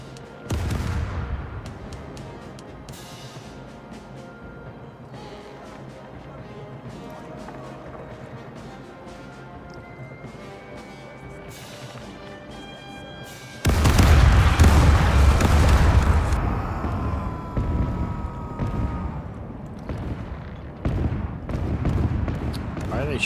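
Ship cannons fire in a Caribbean Legend naval battle against the Dutch navy. Steady game music comes first, then loud, booming broadband volleys erupt midway and keep crashing in repeated bursts.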